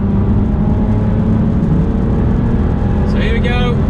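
An Aston Martin DBS pulls hard in third gear on a B road, its engine droning steadily and loud from inside the cabin, with a brief higher whine rising near the end.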